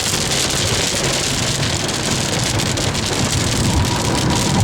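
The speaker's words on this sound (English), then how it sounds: "Big ass storm." Heavy rain pours down steadily during a big thunderstorm, a dense, loud, unbroken hiss of drops hitting surfaces with a faint low rumble beneath.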